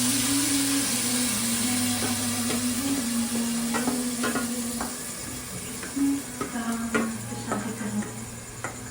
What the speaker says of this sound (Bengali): চলো চিকেনটা তেলের মধ্যে দিয়ে দিই।